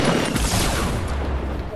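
An RPG rocket strikes the player in Fortnite Battle Royale, a loud broadband blast that rolls into a sustained rumble of gunfire and explosion noise for nearly two seconds.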